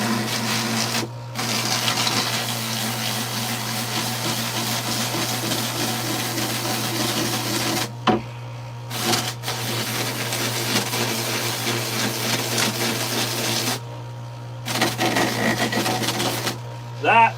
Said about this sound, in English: This thing here is attached to a small motor. It's like a Dremel, but about, I would say, 3 or 4 times the size of a Dremel motor.